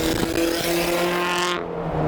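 Turbocharged Scion FR-S with a 2-liter boxer engine and a 67mm turbo, revving hard in a brief burst with a rising engine note that drops off near the end, close and loud.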